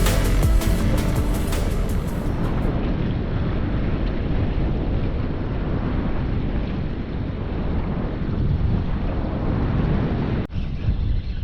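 Strong, steady wind roars across an exposed remote island coast, buffeting the microphone with a constant broadband rush and faint surf beneath, a brief thump near the end.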